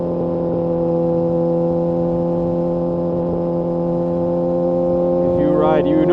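Kawasaki ZX6R motorcycle engine holding a steady drone while riding, with strong even harmonics and a faint rising whine near the end, loud and continuous.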